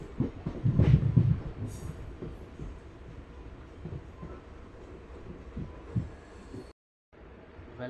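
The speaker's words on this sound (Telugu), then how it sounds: "మన ట్రైన్ అయితే మెల్లిగా ట్రాక్ చేంజ్ అయితే అవుతుంది." A MEMU express train rolls slowly through a track change near a station, with a steady low rumble and rhythmic wheel thumps, a louder clatter early on, then a brief dropout before the rumble resumes.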